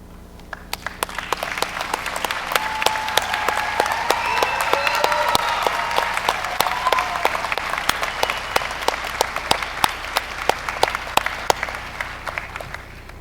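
Audience applause at a UIC John Marshall Law School graduation ceremony as honors graduates rise, a sustained roomful of clapping with sharp individual claps that swells in the middle and tapers slightly, heard alone.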